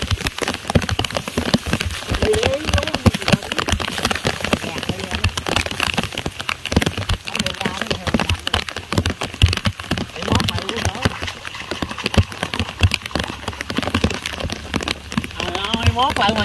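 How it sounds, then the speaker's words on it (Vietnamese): Heavy rain pours onto a flooded rice field, a dense constant hiss and patter with scattered crackling drops, while people talk and move through the water. "Nãy anh em hưởng đoạn nguyên cơn mưa."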